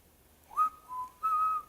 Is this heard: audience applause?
no